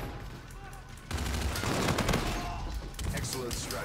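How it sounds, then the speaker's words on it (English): Artillery bombardment in the shooter game Infinite Warfare, a dense rumbling barrage of blasts and gunfire that swells after a quieter start and keeps rolling, with voices talking underneath. "I got the bombardment."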